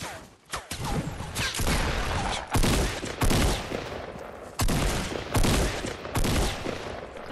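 Shooter video game gunfire, loud repeated bursts of automatic fire separated by short pauses, sustained over several seconds with almost no speech.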